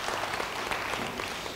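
Church congregation breaks into applause during a sermon service, a dense, steady wash of many hands clapping at once, filling the room evenly from start to finish.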